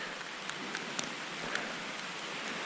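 Rain falls steadily in a rural forest area where wild yams are being dug, a soft even patter with a few sharper drip taps, moderately quiet and without speech.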